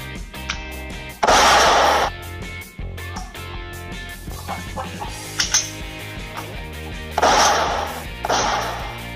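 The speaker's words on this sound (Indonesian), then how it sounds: "bagaimana cara menambahkan efek tembakan di dalam sebuah video" Gunshot sound effects added to a toy pistol or airsoft gun scene, several sharp loud bursts spaced a few seconds apart over background music.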